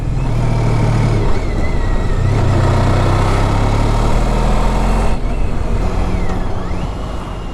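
A motorcycle engine hums steadily and loudly while touring mountain roads near Babia Góra in the Polish countryside, with a constant drone and wind rush and no talking.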